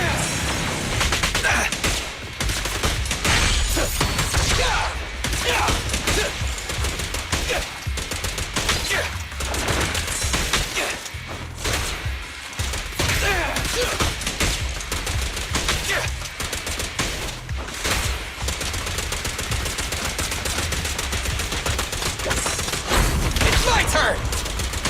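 Dense, continuous gunfire from the video game Zenless Zone Zero, rapid bursts and booms packed together at high volume, with a voice talking over the shooting throughout.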